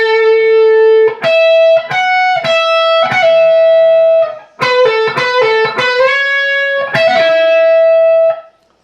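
An overdriven electric guitar plays a high solo lick: a long held note, then quick picked bends and repeated notes ringing loudly up close.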